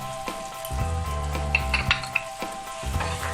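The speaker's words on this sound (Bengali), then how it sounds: "এবার আমি মশলাটা একটু কষছি।" Ground spices — turmeric, Kashmiri chili, coriander and cumin powders — frying in hot oil in a pan for Bengali niramish dalna, a steady close sizzle with brief stirring bursts and scraping clicks, no voices.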